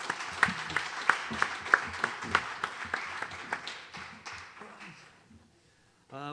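A theatre audience at the Stratford Playhouse claps for a street arts concert act, sharp claps at first that thin out and fade to near silence, with a voice briefly heard at the very end.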